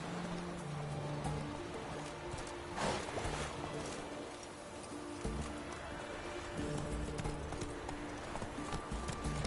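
Hoofbeats from Roach, the horse in The Witcher 3, approach at a steady clip-clop under a game soundscape, with someone talking over them.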